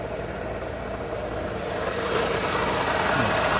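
A used 2005 car's 4-cylinder engine idling steadily around 900 rpm, with a large cooling fan whooshing; a continuous, even hum and rush that swells slightly louder partway through, heard close with no talk.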